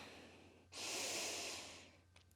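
A deep, full inhale drawn through the nose during a slow-flow yoga session, one long breathy rush lasting over a second, close and fairly loud, fading at the end into near silence.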